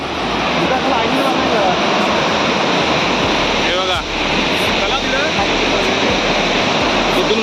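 Loud, steady roar of rushing water fills the whole clip, a dense continuous wash with a faint voice briefly audible underneath.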